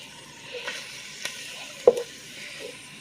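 Ground hamburger meat cooks in a pan with chili pepper flakes, a faint steady sizzle broken by a few soft stirring clicks and scrapes.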